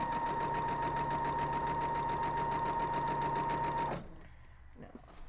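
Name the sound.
sewing machine stitching quilt block pieces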